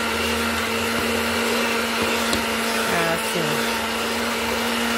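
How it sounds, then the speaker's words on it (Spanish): An electric hand mixer beats bread dough with milk for a cream bread, a steady close motor whine with a constant hum, and a voice briefly speaks over it. "ya podemos batirle con la batidora"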